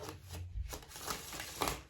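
A deck of oracle cards being shuffled by hand, quick riffling and flicking bursts over about two seconds, close and moderately loud.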